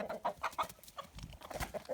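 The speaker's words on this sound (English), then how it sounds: "This is what happens at night with these horny roosters." Roosters cluck and squawk in short, agitated bursts at night, close by, with scuffling movement between calls.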